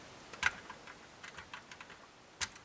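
Small metallic clicks and ticks from a lever lock being picked, a scattered run of faint taps with two sharper clicks, close and otherwise quiet.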